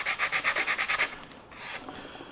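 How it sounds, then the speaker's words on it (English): Coarse sanding sticks rubbed over the seam line of a plastic V-2/A4 model rocket kit: about nine quick, even back-and-forth strokes, close and crisp, followed by a few softer scrapes, with no talk. "starting with coarse sanding sticks"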